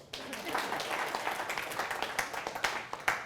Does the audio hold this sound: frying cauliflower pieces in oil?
no